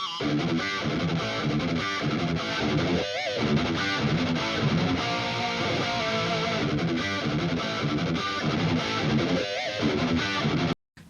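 Two dense, continuous distorted electric guitars panned hard left and right, with a shimmering chorus effect, playing loud and steady for about ten seconds before cutting off abruptly.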